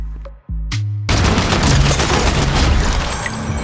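Rapid shotgun blasts from a mythic shotgun in a shooter video game fire as a loud, dense burst of overlapping gunfire that continues without pause.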